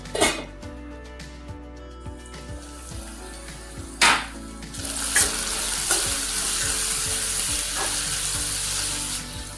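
Bell pepper sizzles and fries in a pan while egg stir-fry cooking goes on, with utensil stirs, a few sharp clinks of metal against the pan, and a steady hiss that builds in the second half.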